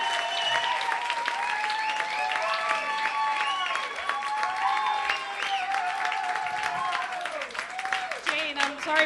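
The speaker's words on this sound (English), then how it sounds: "Clap, everybody, for Marlaina Schiavo." Audience applause and crowd noise for a comedian at a New York comedy show, steady clapping over about nine seconds with a host's voice talking over it throughout.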